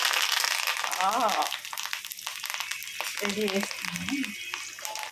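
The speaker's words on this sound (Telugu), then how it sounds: "పప్పుకి తాలింపు వేస్తున్నా" A tempering for dal sizzling and crackling in a pan, heard close under a person talking.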